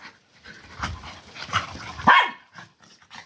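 A dog gives a short bark and some whimpering yelps, close by, among panting and scuffling sounds.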